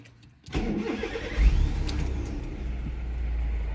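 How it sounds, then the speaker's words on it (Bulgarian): An old Bangia car is started with the key: a brief starter crank catches, then the engine settles into a steady, low idle that hums on to the end, close and alone with no talk. "Така, сега палиме си колата."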